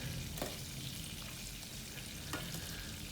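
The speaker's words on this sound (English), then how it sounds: "the tail end of the bangus, we're frying it" Tail end of a bangus milkfish frying in a pan, a dense, steady sizzle with a couple of brief sharp pops and crackles, close and continuous with no talking.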